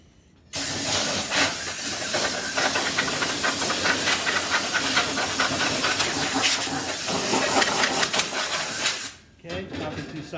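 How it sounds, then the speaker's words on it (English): Compressed air blasting from an air nozzle to clear dust from items before painting, a loud continuous hiss lasting about nine seconds with abrupt start and stop, a voice faintly underneath. "take some compressed air"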